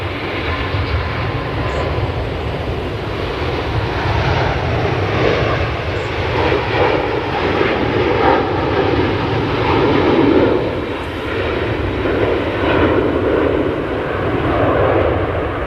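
Engines of a Singapore Airlines Airbus A350-900 at Manchester Airport give a steady, loud jet roar with slow swells in intensity, sustained close by for the whole stretch with no voices.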